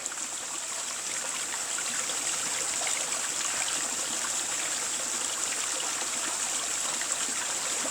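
Meltwater pours over an icy edge above a winter river, feeding a large ice cone below, a steady hissing rush of flowing water, fairly faint and unbroken throughout.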